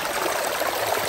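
Water rushes steadily through a tilted sluice box used for working material, a continuous close hissing flow with no break across the short stretch.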